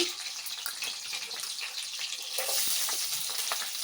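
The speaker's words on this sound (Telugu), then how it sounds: "ఒక ఉల్లిపాయ సన్నగా తరుక్కొని వేసుకోవాలి." Thinly sliced onion hits hot oil with curry leaves in a pan for a brinjal tomato curry, giving a steady close sizzle and crackle that swells louder partway through, with no talking.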